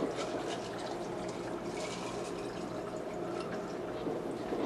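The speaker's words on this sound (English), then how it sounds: "I like to fill it halfway with water, with ice, and then fill the remainder with the water." Water streams steadily into a tall glass already half filled with ice, producing a continuous fizzing, splashing pour that stays fairly soft and even throughout.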